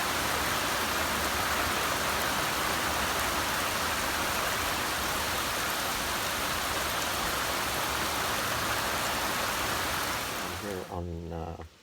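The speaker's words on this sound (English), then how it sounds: "Started to rain out of the blue." Steady rain pours outdoors near a trail shelter on a windy day, a loud dense hiss of drops falling on surfaces that continues unbroken before cutting off abruptly at the end.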